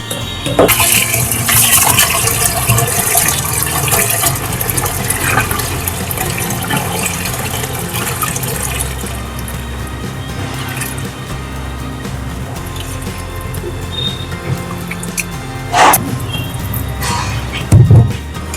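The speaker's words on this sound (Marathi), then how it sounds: "आता हे आपल्याला चांगले धुवून घ्यायचे दोन ते तीन वेळा" Water sloshes and splashes continuously as rice, lentils and fenugreek seeds are rinsed in a bowl, with occasional knocks and clatters near the end.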